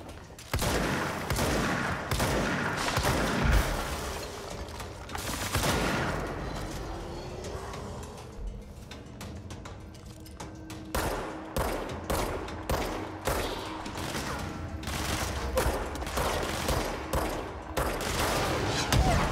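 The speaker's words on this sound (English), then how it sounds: "But I can certainly shoot you." Repeated bursts of gunfire in the game Control, loud and sharp, with clusters of rapid shots, a quieter stretch with a rising whine partway through, then more scattered shots resuming.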